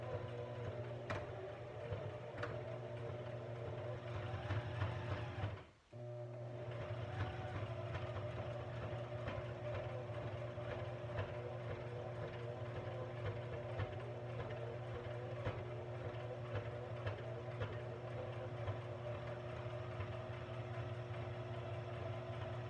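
A sewing machine runs a zigzag stitch through a thick traveler's notebook cover, with a steady close motor hum and rapid regular needle ticks, a brief pause around six seconds, then continuous stitching.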